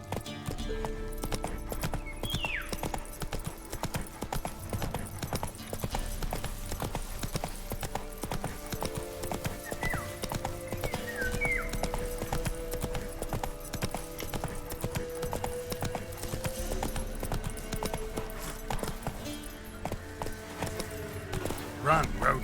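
Roach, a horse in The Witcher 3: Wild Hunt, gallops with a steady, fast clip-clop of hooves and an occasional whinny, set against game music and ambience while a voice speaks.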